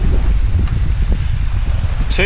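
A strong wind gust buffets the microphone while sailing off the Alaska Peninsula, a loud continuous low roar with rushing water beneath, and a voice speaking faintly under the wind.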